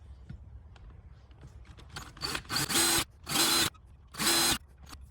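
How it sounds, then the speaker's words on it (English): A power drill whirs in three short, loud bursts, each a high grinding whine while drilling holes in metal, with quieter clicks and handling noise in between. "So I'm gonna just drill a couple of holes in the middle"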